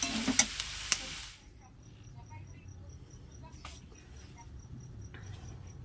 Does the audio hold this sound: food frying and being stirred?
yes